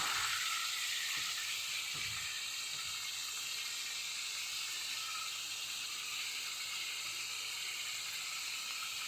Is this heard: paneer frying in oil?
yes